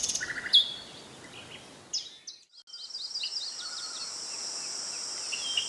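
A nightingale sings a varied song of clear whistles, rapid trills and repeated chirping notes, loud and close, with brief pauses between phrases.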